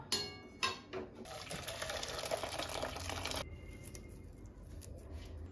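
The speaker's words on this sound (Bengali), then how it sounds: "ডাল কমপ্লিট, এবার আমি এটা ঢেলে ফেলব।" Dal (lentil soup) poured out of a pot after boiling, heard as a few clinks of the vessel and then a steady splashing pour lasting about two seconds, followed by quieter rustling, with no talking.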